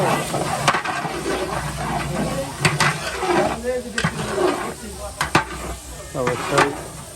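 Onions for beresta fry over a firewood fire with a bright, hissing sizzle and occasional clinks of a stirring utensil against the pot, while voices talk nearby.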